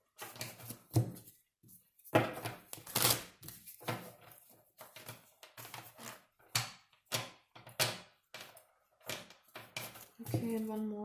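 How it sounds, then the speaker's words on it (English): Tarot cards being shuffled during a weekly tarot reading, a run of quick papery riffles and taps in irregular bursts, close and fairly quiet, with soft speech in between. "Let's get some shuffles here for Leo."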